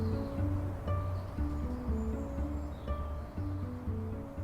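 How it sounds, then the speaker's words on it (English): Quiet suburban garden in West London, with low steady background rumble, soft rustling and a few faint distant bird calls, no voices. "this is the sound of my garden in West London"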